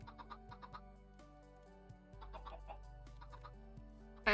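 Minecraft chickens cluck in short, scattered bursts, near and fairly soft, over gentle background game music.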